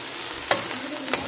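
Mutton neck pieces fry with browned onions in a pan, sending up a steady close sizzle broken by two quick scraping stirs.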